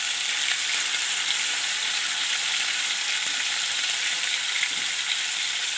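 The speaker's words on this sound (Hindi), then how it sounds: "अब हम इसमें कीमा डाल के 1 मिनट अच्छी तरीके से हम इसे भूनेंगे।" Minced meat (keema) fries in a pan with a loud, dense, continuous sizzle that stays even throughout, close up with no talking.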